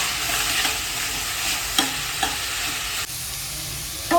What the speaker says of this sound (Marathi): हे वाटण छान असं परतून घ्यायचं भाज्यांसोबत.